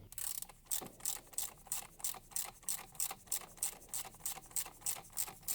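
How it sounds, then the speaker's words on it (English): Hand ratchet tightening spark plugs on a 2000 Jeep Cherokee, giving a steady run of quick, evenly spaced clicks heard close up with no talking. "if you're just using a ratchet, that's hand tight, and maybe 1/8 of a turn after that."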